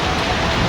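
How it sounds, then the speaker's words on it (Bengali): Heavy rain pouring down in a loud, dense, even wash of noise up close, with no break across the short stretch. "ঘুম আর বৃষ্টি ভালো বৃষ্টি হইতেছে"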